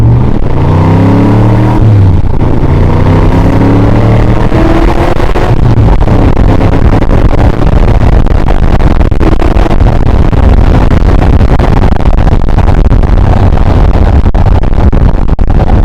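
An AC Shelby Cobra roars loudly as it accelerates on the road, the engine note climbing and dropping through shifts before settling into a sustained hard-pulling growl.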